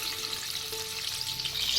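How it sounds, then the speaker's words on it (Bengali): Eggs fry in about a tablespoon of hot white oil in a pan, a steady close crackling sizzle with no talking. "এখন প্যানে 1 টেবিল চামচ মতো সাদা তেল গরম করে নিয়ে ডিমগুলোকে ভেজে নেব"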